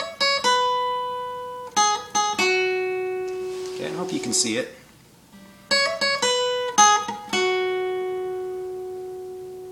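Acoustic guitar picking pattern from a song, played slowly in clean plucked notes that ring and overlap, with a short spoken remark in the middle before the same pattern repeats.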